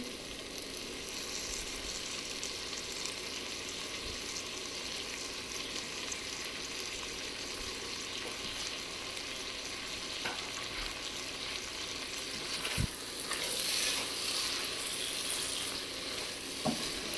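Shrimp sizzle steadily in a hot pan for a stem amaranth curry, a dense close frying hiss throughout with occasional faint scrapes and utensil taps.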